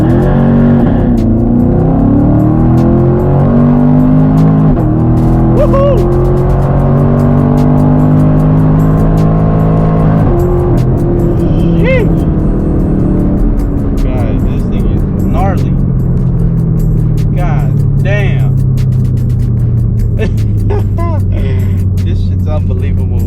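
A car running on E85 fuel with a cold air intake and a tune launches hard from standstill, its loud engine revving and climbing through gears while excited people talk and shout over it inside the cabin.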